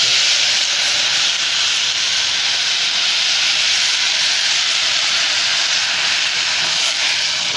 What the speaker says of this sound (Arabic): وهي بعد ما اتحمرت احط لها الميه